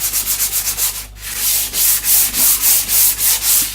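Rust is sanded off a cast iron tool top with sanding pads on a flat block, heard as close, rhythmic back-and-forth rubbing strokes, a short pause, then faster, louder regular strokes.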